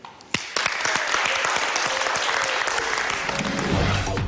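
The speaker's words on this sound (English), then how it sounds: "Give yourself a round of applause" A group breaks into loud, steady applause at the close of a modeling competition's final audition day, starting with a few sharp claps and then holding as a dense wash, with a faint voice underneath.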